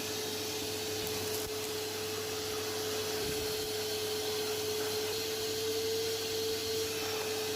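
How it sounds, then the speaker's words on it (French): A vacuum cleaner running steadily inside a very dirty car interior, a loud continuous droning whine with a fixed tone that holds without pause throughout, no talking. "on va commencer à nettoyer, à aspirer, pour que ce soit nickel, parce que c'est vraiment crade"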